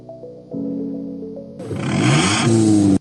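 A car engine idles with a low rumble, then a loud raspy exhaust revs hard, climbing and roaring before abruptly cutting off.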